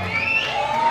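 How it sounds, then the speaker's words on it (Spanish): A fair crowd at a coronation event cheers and shouts, with high voices and whoops rising over a busy background of clapping, loud and close for a brief moment. "Fuerte el aplauso, que se escuche."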